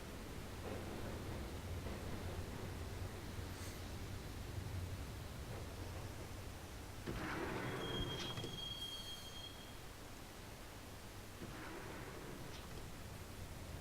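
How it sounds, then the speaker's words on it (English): A subway train ride in Max Payne: steady rolling rail rumble with wheel screeches and a high metallic squeal in the middle, continuous and fairly quiet, with no one talking. "the train doors had already shut behind me, and I was in for the ride"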